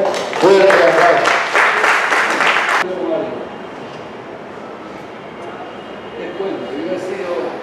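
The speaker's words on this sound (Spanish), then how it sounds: "ingeniero Celso Sotomarino Chávez, a cual invitamos y recibamos con un fuerte aplauso" Loud applause from an audience welcoming an engineer to the stage, a dense burst of clapping for about three seconds that drops sharply and fades into a quieter room murmur with some distant voices.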